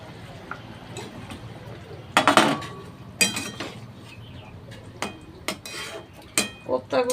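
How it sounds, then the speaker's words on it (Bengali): Raw-banana koftas going into a pot of simmering gravy, with several sharp clatters of a utensil against the pot and a few softer knocks spread over a quiet bubbling background, heard up close with no talking. "এবার কোপ্তাগুলো দিয়ে দেব।"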